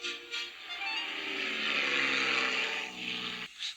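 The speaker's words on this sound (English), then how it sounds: "Percy heard the aeroplane zooming overhead all day" Aeroplane zooming overhead, a broad roaring whoosh that swells to a peak and fades within a few seconds, fairly loud with no speech.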